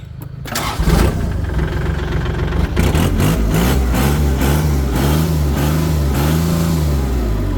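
A Kubota L3608 tractor's diesel engine cranks and catches, then runs loud and steady nearby with a heavy rhythmic chug and slight rises in revs.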